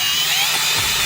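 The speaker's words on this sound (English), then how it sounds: "Let this drill it out." A power drill with a 2.5 inch bit bores holes into rocky ground on a farm, giving a loud, continuous high-pitched whine with grinding noise throughout.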